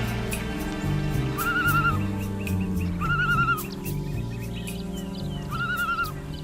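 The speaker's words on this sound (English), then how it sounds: "The call of the common loon is a signature sound of the northern lakes" Wavering, tremolo common loon calls ring out three times over a low, steady musical backdrop.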